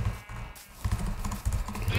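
Sheep bleat in the Minecraft video game, several short wavering calls over a muffled, busy background with faint clicking like keyboard keys.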